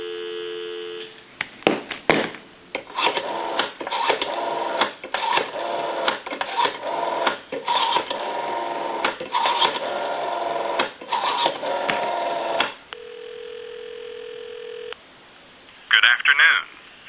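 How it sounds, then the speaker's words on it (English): A Western Electric 500 rotary telephone line plays tones and clicks of dialing in a narrow, phone-filtered band, followed by a steady single dial tone and a short burst at the end. "give you some dial tone"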